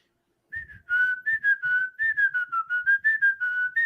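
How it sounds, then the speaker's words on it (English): A person whistles a bright, lively musical intro alone, a steady run of clear sustained notes and short phrases lasting a few seconds with no talking. "give me a beautiful musical entry with your whistling"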